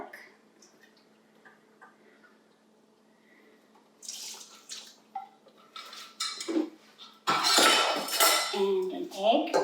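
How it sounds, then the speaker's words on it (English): Milk poured into a bowl of foaming yeast while making mini donuts, heard as kitchen clatter of dishes and utensils that grows louder and busier toward the end, with no one talking. "So after 5 minutes and your yeast begins to foam, you can add a 1/2 cup of milk"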